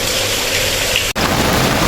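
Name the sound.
heavy rain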